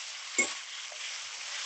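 Taro leaves cook down with hilsa fish heads in a pan, sizzling in a steady hiss, with one soft stirring scrape near the start, close and alone.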